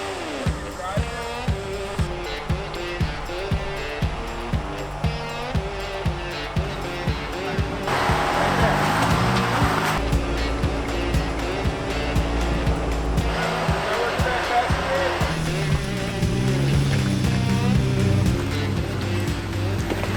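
A Jeep Gladiator truck crawls through a rocky, slick, wet ravine trail while off-roading, its engine droning steadily and revving harder midway. Tires scrabble over rock, and people talk over the engine noise.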